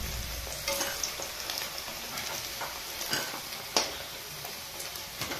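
Paneer fries in a pan in an Odia kitchen, with steady loud sizzling and occasional sharp stirring clicks against the pan, with no speech.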